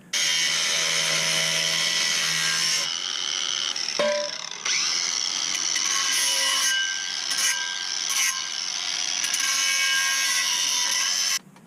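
Power tool cutting through a car's exhaust front pipe to make room for a flex joint, a loud continuous grinding whine that briefly stops and restarts, close by and alone.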